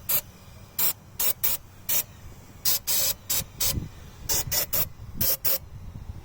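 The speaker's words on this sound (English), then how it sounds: "I'd recommend you spray it with some carb cleaner." Carb cleaner sprays in short bursts onto a removed EGR valve from a 2005 Honda Civic DX, about a dozen sharp close hisses in an uneven rhythm, some quick pairs and a few longer blasts.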